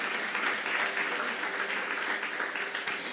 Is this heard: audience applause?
yes